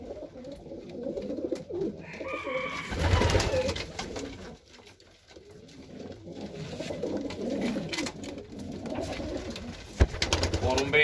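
Pigeons coo softly and repeatedly in the background, with faint rustling and other birds nearby, while a voice murmurs occasionally.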